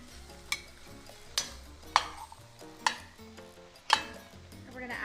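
Vegetables for Hatch green chile stew cook in a pan with a steady low sizzle, broken by several sharp clinks of a utensil stirring against the pan at irregular intervals.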